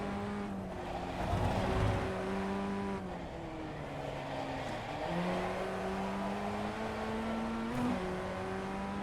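A Formula Ford 1600 race car in the iRacing sim at Summit Point's Jefferson Circuit drones at high revs, its engine note rising and dropping through several gear shifts and braking zones, loud and continuous with brief tire squeal.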